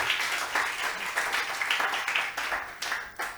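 A church congregation breaks into sustained applause for the Lord, dense overlapping clapping filling the room steadily for several seconds with no pauses.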